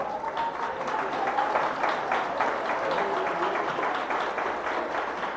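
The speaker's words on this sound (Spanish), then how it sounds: "dale palmas bien bonitas para Cristo" A church congregation claps together for Christ, a sustained, rhythmic round of applause that fills the room.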